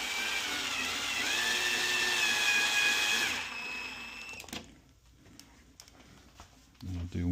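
Power drill driving screws into a Pinball 2.0 kit, a loud whirring run that pitches up partway and then cuts off, followed by quieter clicks and handling noise.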